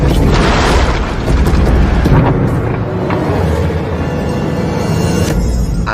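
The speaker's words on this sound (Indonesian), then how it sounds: "Suara tembakan yang tak henti-henti" Continuous, relentless gunfire and heavy booming blasts in a battle scene from an action film, loud and dense throughout with no break and no dialogue.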